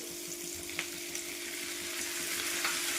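Ingredients frying in oil in a pan for shahi matar paneer, a faint steady sizzle with a few soft stirring clicks and a low hum underneath, with no voices.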